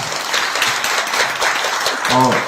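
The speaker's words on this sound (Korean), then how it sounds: "다시 한번 뜨거운 박수 부탁드리겠습니다." Applause from a forum audience at an education administration event, a steady wash of clapping throughout with a voice and brief tonal sound near the end.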